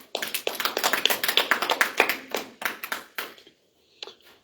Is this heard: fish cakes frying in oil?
no